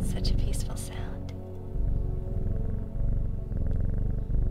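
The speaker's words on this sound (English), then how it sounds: "There is nothing like cuddling a kitty and just listening to it purr." A cat purring in the video game Strange Horticulture, a low steady rumble that runs the whole time under soft background game music, with no speech over it.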